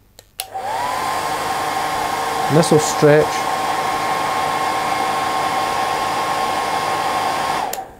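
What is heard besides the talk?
hairdryer running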